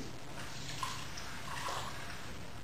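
A thin stream of water runs steadily from a tap, a soft, even hiss and splash heard close up with no voices.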